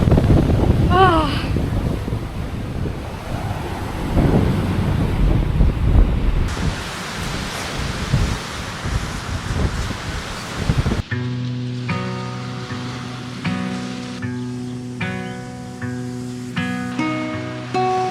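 Waves breaking on a beach on the East Coast, a broad rushing wash mixed with wind buffeting, followed by a quieter stretch with a tonal hum over the surf.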